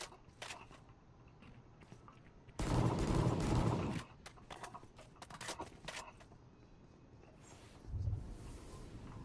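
Valorant gunfire rattles out in a loud sustained burst, followed by scattered sharp single shots and a shorter burst near the end, with no talk.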